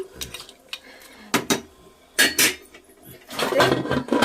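Irregular metallic scraping and clanks of a utensil stirring goat head curry inside a pot, in short bursts, close by.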